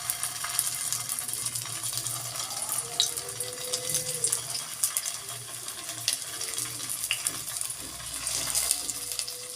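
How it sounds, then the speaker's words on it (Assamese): Banana flower chops fry in hot oil in a pan over a low flame, giving a soft, continuous crackle and bubbling. It carries on evenly at low volume throughout, with no talking. "দুইটা চাইড ৰঙা হোৱাকৈ মই চপকেইটা ভাজি ল'ম।"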